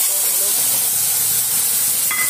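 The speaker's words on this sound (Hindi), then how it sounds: "जीरा और तेज पत्ता डाल दीजिए, हल्का से इसको भूंज लीजिए" Cumin seeds and bay leaves frying in hot oil in a pan, a continuous close sizzle and hiss with a faint clink of a utensil near the end.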